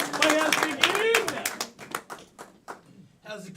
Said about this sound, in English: Let's give her a round of applause for one